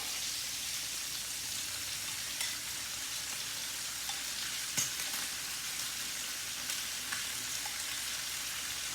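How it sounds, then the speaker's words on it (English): Pork searing in a pan gives a steady, close, dense sizzle that runs unbroken throughout, with a few faint pops and utensil ticks but no voices. "I'm already searing the pork in the pan"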